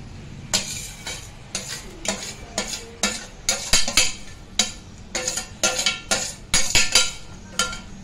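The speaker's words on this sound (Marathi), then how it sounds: "थोडं थोडं टाकून हलवून घ्यायचं" Repeated scraping strokes of a spoon stirring semolina into boiling water in a pot for upma, in an irregular rhythm, with faint bubbling underneath.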